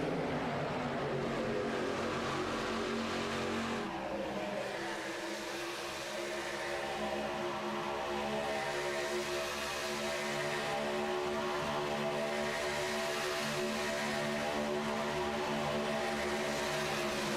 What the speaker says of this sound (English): let those trucks wind up and hear the sound of them getting up to fourth gear, getting up to 175, 180 miles an hour into turn number 3